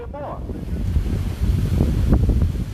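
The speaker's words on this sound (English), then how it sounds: "It's actually windy out here." Outdoor wind buffets the microphone as a steady, loud low rumble across the whole stretch, with a brief voice-like sound near the start.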